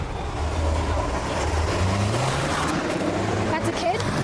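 A stolen red Hyundai speeds past deputies on a street. A broad engine and road roar rises and fades with a low droning tone, heard under a speaking voice.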